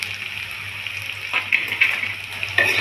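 A soft, constant sizzle of onion, chili and plantain peels frying in a wok, broken by a few scraping stirs of a utensil against the pan toward the end.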